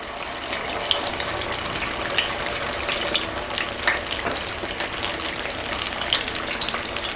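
Rice appam batter, four portions poured into a pan, fries in hot oil with a dense, steady sizzle and crackle close by, unbroken throughout.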